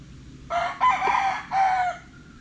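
A hiraw or dirty gray gamefowl rooster crows close by, one loud drawn-out call in several strained segments, standing alone without talk.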